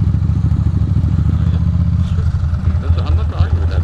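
A Ducati motorcycle idles with a low, throbbing engine rumble as it pulls into a parking spot, close by, with people talking over it.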